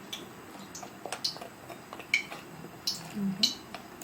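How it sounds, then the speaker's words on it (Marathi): Vada pav batter with baking soda and asafoetida being mixed in a bowl, a series of irregular light wet clicks and taps of a spoon against the vessel. "आता हे बेटर मिक्स करून घेऊया"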